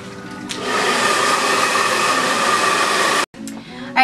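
A hair dryer blows on wet hair in a salon, a steady loud whirring roar running for about three seconds before cutting off abruptly, with a brief voice after.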